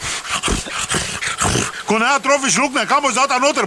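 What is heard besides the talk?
dog whimpering and growling in a car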